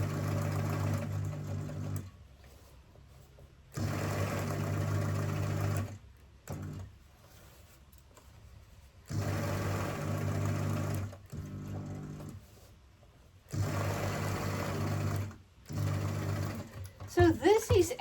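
A sewing machine stitches a fabric gift card in bursts of rapid, loud mechanical chatter, each lasting a couple of seconds and separated by quiet pauses, close up with no talk.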